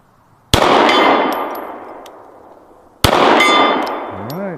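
Two 9mm pistol shots from a Rex Zero 1 CP strike a red steel target plate about two and a half seconds apart, each a sharp crack followed by a long metallic ring that slowly fades, loud and with no talking.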